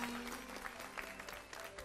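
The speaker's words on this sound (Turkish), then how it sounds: "Evet, tebrik ediyoruz, alkışlıyoruz." A studio audience on a live Turkish pre-dawn sahur television broadcast claps in a brief, steady burst of dense applause, loud and close, with no voices over it.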